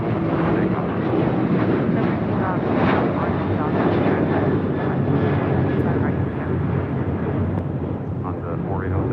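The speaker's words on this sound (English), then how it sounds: "This is American Airlines 1292 taking off to Nashville on a 737-800" An American Airlines Boeing 737-800 jet takes off at LAX with a loud, sustained engine roar that swells and rumbles, while people talk over it.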